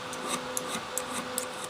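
A hand file strokes across an auger bit to clear burrs and chip marks, making a quick, even series of close, light rasping scrapes with small ticks at each pass.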